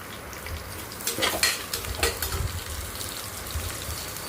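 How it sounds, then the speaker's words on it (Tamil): Sliced large onions and dried red chillies sautéing in a pan, a continuous oily sizzle with a few louder crackles and utensil scrapes as they are stirred. "நீல வாக்கில் கட் பண்ண பெரிய வெங்காயம் ஒரு 2, வரமிளகா ஒரு 3 வரமிளகா போட்டிருக்கேன். நல்லா வதக்கி விட்டுருங்க."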